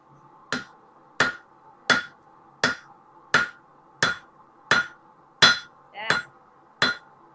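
A blacksmith's hammer strikes hot steel on an anvil while forging an axe drift in a loud blacksmith shop, ringing out ten sharp, evenly spaced metallic blows close up over a faint low hum, with no talking.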